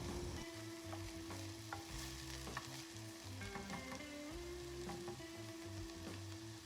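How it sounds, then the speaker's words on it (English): Bell peppers and onions sauté in oil with salt and pepper in a pan, giving a continuous soft sizzle with faint scraping and stirring, all under background music and no voices. "I'm quickly sauteing some bell peppers and onions with a little oil and salt and pepper."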